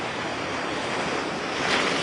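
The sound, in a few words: large ocean waves on a beach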